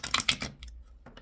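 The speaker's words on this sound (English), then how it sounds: "I'm going to give these cards a couple more shuffles" Tarot cards are shuffled by hand up close, giving a few quick papery riffling bursts followed by softer taps and a short pause, with no talking.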